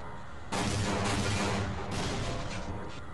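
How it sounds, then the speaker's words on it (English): A loud, crashing explosion in Half-Life erupts after a brief quiet, followed by further rumbling blasts and debris that slowly die away, alone with no voices. "Just a few more explosions."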